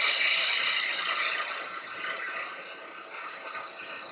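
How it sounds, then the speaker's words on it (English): A gouge taking a shearing cut on a wood lathe gives a steady, close scraping hiss that slowly fades and swells over about four seconds, with no voices. "Can I do that shearing cut with this tool like I just did with the roughing gouge a few minutes ago?"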